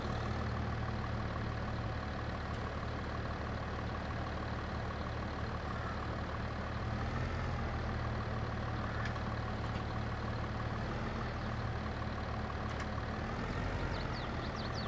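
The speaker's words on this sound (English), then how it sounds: "Let's prepare this tractor." A tractor engine idles in a farming video game, a steady low rumble that runs unbroken and fairly quiet, with no talking.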